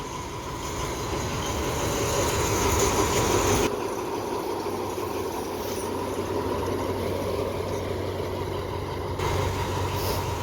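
A diesel train pulled by two locomotives, service 258 from Nam Tok to Thonburi, passes the Ban Yang level crossing with a loud, close, continuous rumble of engines and rolling wheels.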